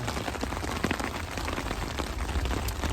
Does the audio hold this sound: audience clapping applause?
no